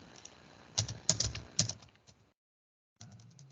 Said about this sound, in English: Goodness, typing.